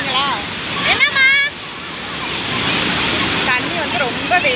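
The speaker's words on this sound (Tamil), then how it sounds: "தண்ணி வந்து ரொம்ப வேகமாக வந்துக்கிட்டு இருக்கு." Fast-flowing water rushes with a constant loud roar and splashing, while people talk over it.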